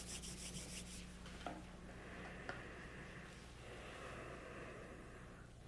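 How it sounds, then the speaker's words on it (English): Palms rubbed together during an eye yoga exercise, a soft continuous close friction swish lasting several seconds, quiet and steady with no talking. "Now rub your hands"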